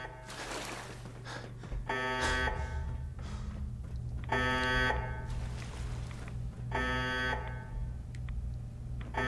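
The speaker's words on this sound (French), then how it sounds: "Quel bonheur que de retrouver cette alarme." A synthetic electronic alarm in the video game Fallout 4 sounds in repeated bursts of harsh, buzzing tones over a low steady hum, each burst about a second long.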